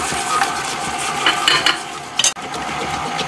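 An electric mixer creams butter and sugar in a bowl for a cinnamon apple loaf, giving a steady whirring, churning stir with a few brief scraping clinks near the end, and no talking.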